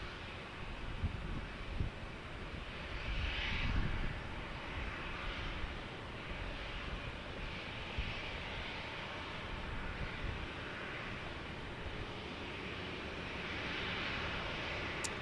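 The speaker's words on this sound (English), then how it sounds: "The taxiing 777. Awesome. I love hearing that." Boeing 777 airliner taxiing at San Diego airport, a distant, faint, steady jet engine roar that swells slightly early on and holds as a broad continuous rumble.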